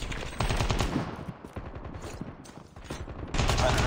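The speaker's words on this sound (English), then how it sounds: "Sentry gun deployed." Sentry gun firing in the video game Call of Duty Mobile, rapid bursts of automatic gunfire with short gaps, fairly faint and mixed with other game sounds.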